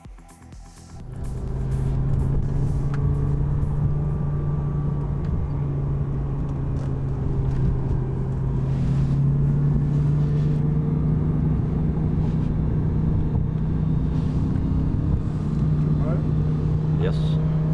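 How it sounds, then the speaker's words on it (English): A BMW M6 and a Lamborghini Gallardo racing from a rolling start in second gear, a loud steady engine roar with heavy wind rumble that swells after the first second and holds, heard from inside a car. "We raced from 50 kilometers per hour up to around 250 kilometers per hour."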